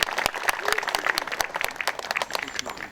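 Applause at a May 18 memorial ceremony as guests are introduced, a crowd clapping in a lively, uneven patter that stays steady throughout, moderately close with a little background voice.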